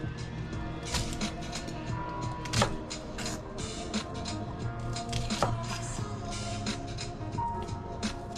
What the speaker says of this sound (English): I think I needed to cut a little more vertical down, but there's shallots for one of those right there.